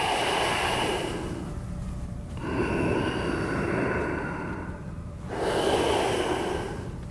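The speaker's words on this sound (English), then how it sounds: "So I breathe in, and I breathe out." Slow, deep breaths in and out during a dead bug core exercise, two long airy exhalations separated by a brief pause, close and clear with no talking.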